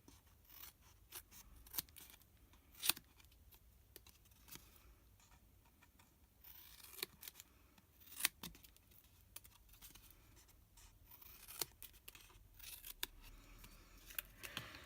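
Scissors cutting paper while making a lidded gift box, with quiet sharp snips and clicks scattered irregularly across a faint, close background.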